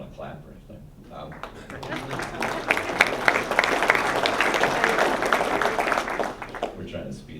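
Applause at a fall association meeting as golf course staff stand to be recognized. Scattered claps build into a fuller round that swells for several seconds and then tapers off, with a speaker talking over it.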